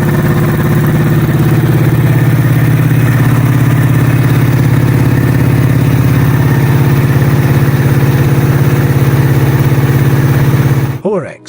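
Horex Imperator 500cc overhead-cam parallel twin motorcycle engine idling loud and close, a steady even clattering throb that holds throughout before a brief rise and cutoff at the very end.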